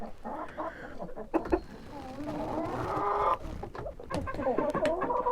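A rooster, Livensky calico or White Leghorn, clucks repeatedly nearby, its throaty calls rising and falling over several seconds with soft rustling around it.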